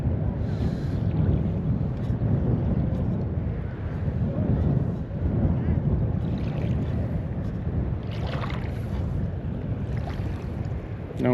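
Steady wind buffeting the microphone while fishing from the shore at Sandy Hook, a continuous low rumbling roar with gusty swells throughout and no talking.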